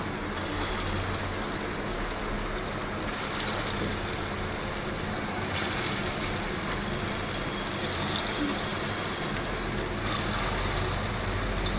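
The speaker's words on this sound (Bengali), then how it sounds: "লো ফ্লেমেই আমি কোপ্তাগুলো ছেড়ে দিচ্ছি।" Soft chhana (paneer) koftas fry gently in hot oil over a low flame, a steady, even sizzle and crackle that runs the whole time with small pops, no talking.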